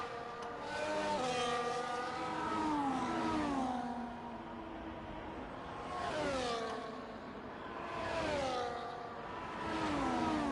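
F1 race cars in the F1 24 video game at Silverstone, several high-revving engines sweeping up and down through gear changes, passing in repeated waves of loud, continuous whine with no talk.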